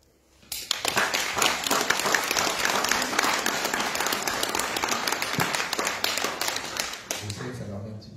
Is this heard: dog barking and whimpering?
no